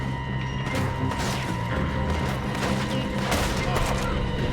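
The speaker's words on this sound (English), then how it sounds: "I can't see who's shooting at me." Sustained gunfire from a Red Dead Redemption 2 shootout, with repeated overlapping shots and crashes sounding at a steady, dense level throughout, mixed with game background noise.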